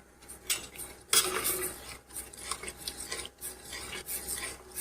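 A spoon clinks and scrapes against a bowl while crushed almonds are stirred and mixed into palooda, giving an irregular run of metallic rubbing and tapping at close range.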